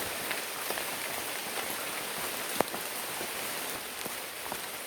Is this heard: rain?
yes